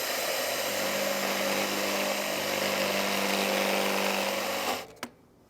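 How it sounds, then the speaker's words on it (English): Power drill boring out a washer hole in a thin aluminum part, running loud and steady near at hand for several seconds before winding down abruptly. "I'm going to drill it out"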